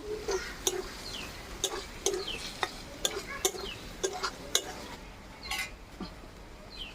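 Poppy seed paste and cashews being stirred in a pan for a paneer and potato curry, with intermittent scraping clicks of a utensil against the pan and a soft sizzle beneath, no talking.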